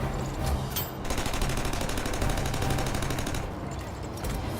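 Rapid machine-gun fire in the video game Aether & Iron, a fast, even stream of shots that runs almost unbroken for several seconds at a steady, close loudness.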